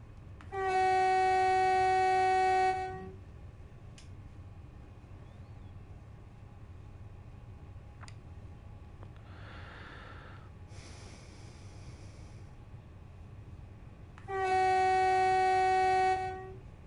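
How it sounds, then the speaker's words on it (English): A locomotive horn sounds in the Train Sim World 3 video game, two long, loud, sustained chords several seconds apart over a quiet cab rumble, with faint mechanical noises between. "Oh, I've got to sound the alarm."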